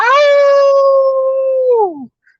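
A man imitates a wolf howl with his voice, one long sustained tonal note held steady before sliding down and fading out, loud and close.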